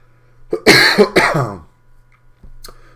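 A man coughs in a short burst of two or three harsh, close coughs with a throat-clearing edge, then a faint breath follows in a quiet room.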